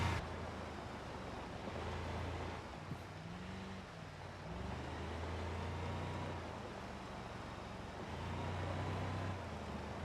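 Car engine in a BeamNG rally drive along a rocky coast, a continuous rumbling drone with shifting pitch and gravelly road noise across the whole stretch, steady and moderately loud.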